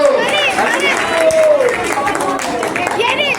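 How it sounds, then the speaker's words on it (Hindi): Listeners at a Vrindavan katha gathering break into clapping and cheers, a loud crowd burst with voices calling out over the continuous patter of hands. "तालियां बजाइए जय हो"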